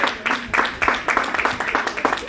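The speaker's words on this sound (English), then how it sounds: "Everyone clap for Emmanuel." A church congregation in London claps together, a moderate, slightly uneven patter of handclaps lasting a couple of seconds.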